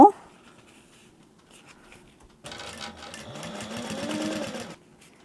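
Sewing machine stitching a fabric backpack, a quiet pause then a steady, rapid mechanical whir of needle strokes for about two seconds, close and clear before stopping.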